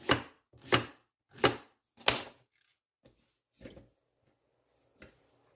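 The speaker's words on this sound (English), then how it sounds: "add them to your food processor with a blade attachment and go ahead and rough chop them until they're the size that you would like in your salsa" A food processor fitted with a blade attachment pulses through zucchini and tomatoes for salsa: four loud, evenly spaced chopping bursts, then a few fainter, scattered knocks and brief rattles, with no talking.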